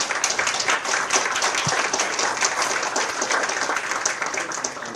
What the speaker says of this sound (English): Let's give a round of applause to the chair.